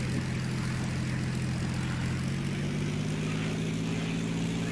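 A propeller aircraft engine drones steadily and loudly during bombing run training, with a constant low hum and no breaks or talking.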